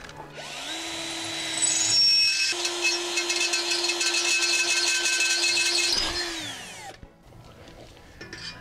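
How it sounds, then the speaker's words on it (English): A power drill bores holes to mount a MrCool mini-split heat pump, its motor spinning up into one long, loud, steady whine with grinding bite into material, then winding down, close and alone. "So now drill those holes and put it in place."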